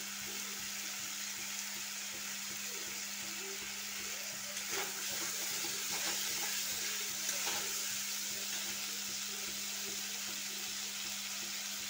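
Water poured into a pan of vetki fish curry with fried potato and cauliflower, giving a steady hissing sizzle and bubbling over a constant low kitchen hum, with soft splashes in the middle and no voices.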